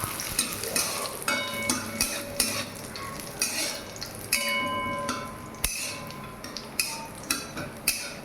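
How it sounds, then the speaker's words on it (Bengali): Cashews and raisins fry in hot oil with a soft sizzle while a metal spoon stirs and scrapes the pan in regular clinks and knocks, close up and without talk. "কিছুটা পরিমাণ কাজু কিশমিশ ভেজে তুলে রাখবো আর কিছুটা পরিমাণ পরে দেব। হালকা লাল লাল করে ভেজে নেব।"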